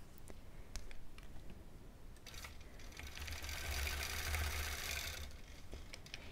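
A sewing machine quilts a small mini quilt, a faint low motor hum that swells toward the middle with soft scattered ticks and light rustling, fairly quiet and distant.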